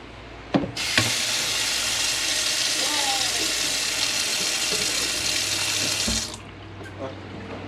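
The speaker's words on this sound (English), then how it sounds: "I turned the pump back on, which gave us water." Water gushing from a tap on a boat after the water pump is switched back on, a steady hissing flow for about five seconds that stops abruptly, framed by clicks and faint voices.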